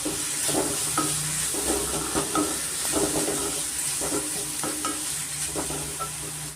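Tomato and arive greens fry and sizzle steadily in a pan over medium flame, with a continuous hiss broken by repeated rhythmic scraping strokes of a spatula, close and fairly loud.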